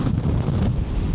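Strong Arctic wind on an ocean shore, loud buffeting gusts roaring and rumbling against the microphone in a continuous blustery wash, with no talk.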